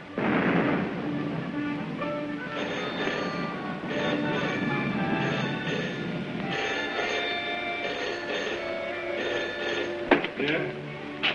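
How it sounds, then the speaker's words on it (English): Distant gunfire booms and rumbles in a film scene, with several dull, far-off reports rolling together into a low thunder. Voices talk over it near the start. "Listen, guns again."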